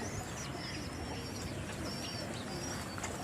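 Pigeons coo softly on a rooftop loft, some birds netted in and others loose outside, a low steady murmur with faint chirps and occasional wing flutters over constant background noise.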